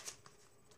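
Quick riffle of a deck of playing cards during a card trick, a single soft, brief shuffle heard close up and alone.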